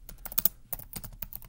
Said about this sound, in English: So the idea is that you just type and don't edit.